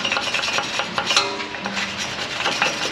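A bristle brush scrubs rusty wheel parts on a 2015 Ford F150, with close, brisk rasping strokes in an uneven rhythm and no talk.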